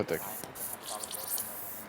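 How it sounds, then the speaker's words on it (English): A spray nozzle with both caps removed releases a steady, hissing mist that runs throughout, partly under a person talking. "I take both caps off and then I pull that needle out and it sprays better"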